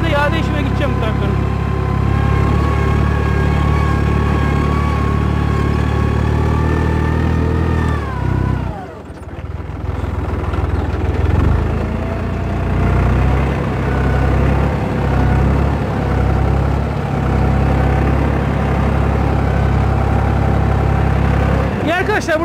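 A Başak 206 tractor engine runs steadily while driving through an olive grove with a spring-tine cultivator, a loud continuous diesel drone with a brief dip and rev change midway.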